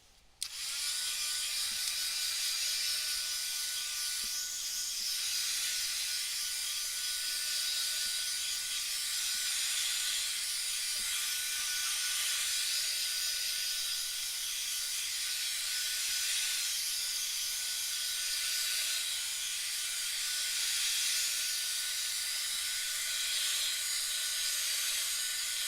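A dryer blows steadily on painted artwork: a loud, even, breathy whoosh that starts suddenly and runs without a break, with no talking over it.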